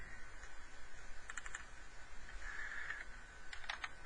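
Keys on a computer keyboard clicking in short irregular bursts, quiet and close against a faint hushed room background, with no talking.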